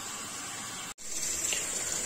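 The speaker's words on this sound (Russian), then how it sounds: "Вперед, включаем воду." Water gushes steadily from a tap with a brief cutoff midway before flowing again, a continuous hissing splash, fairly quiet and close.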